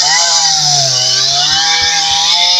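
A chainsaw cuts through wood from a dismantled shelter frame and felled tree at a snowy winter campsite, the engine droning loud and close with a steady, wavering pitch throughout.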